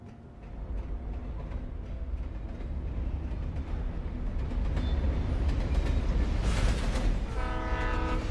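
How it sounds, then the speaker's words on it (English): A train rumbles past in the video game Alan Wake Remastered, clattering and growing louder as it nears, then sounding a long horn blast near the end. "Just the train."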